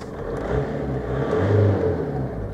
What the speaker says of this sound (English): getting the engine running, because it runs and it sounds amazing